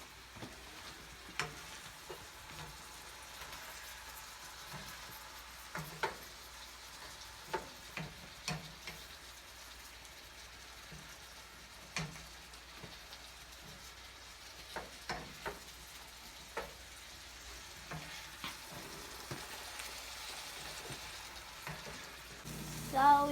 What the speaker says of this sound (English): So you have to stir till it is golden brown.